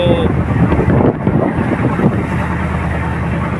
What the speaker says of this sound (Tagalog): Malakas ang bagyo.